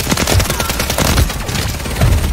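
SMG gunfire in a video game, a loud rapid stream of shots with a few heavier bursts, close and continuous without talk.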